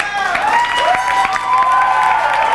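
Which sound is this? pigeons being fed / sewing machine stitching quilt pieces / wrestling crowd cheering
wrestling crowd cheering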